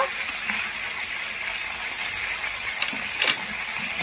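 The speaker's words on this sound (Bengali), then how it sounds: "এরপর আমি সেদ্ধ করে রাখা এঁচড়গুলো দিয়ে দেব।" Boiled jackfruit pieces go into a yogurt-cooked masala that has begun releasing its oil, giving a steady, close hiss and sizzle of frying that holds evenly throughout with small crackling bursts.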